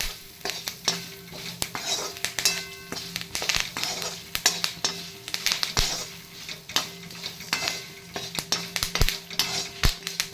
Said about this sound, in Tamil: இது கூட 2 வேர்க்கடலையும் போட்டுண்டு எல்லாத்தையும் ஒன்றா வறுத்துக்கணும்